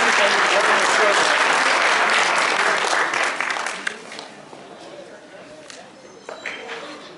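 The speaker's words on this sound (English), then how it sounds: "Can we give Commissioner Barcelona a round of applause?" An audience at a centennial school celebration applauds a commissioner, loud dense clapping that fades after a few seconds into scattered claps and low crowd murmur.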